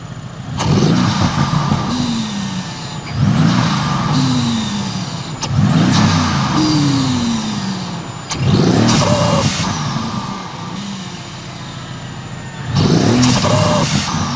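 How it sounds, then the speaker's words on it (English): A Mercedes-AMG engine fitted with BlackBoost cold air intakes and downpipes revs hard in repeated bursts, each climbing then dropping back to a rumbling idle, loud and close with no talking. "Now we'll go ahead and fire up the car, and we'll get some revs in"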